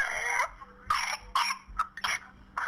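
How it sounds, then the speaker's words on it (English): A child with whooping cough gives several harsh, close coughs in bursts with gasping breaths between, loud and alone with no talk. "He was coughing and doing the whoop."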